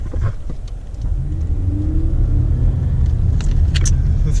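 Toyota car on a test drive after an oil change, steady low engine rumble and road noise from inside the cabin, building slightly as it moves, with faint clicks.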